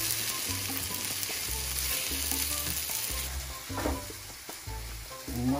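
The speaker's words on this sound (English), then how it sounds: "We will add white wine. And let the wine reduce." White wine sizzles and bubbles steadily as it reduces in a seafood paella pan, a loud, continuous frying hiss with soft scraping stir sounds.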